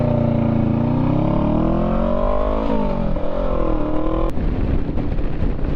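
A motorcycle engine drones close and loud as it is ridden, pitch climbing and dipping through gear changes, with a sharp break near the end as the engine note shifts to a rougher, lower rumble.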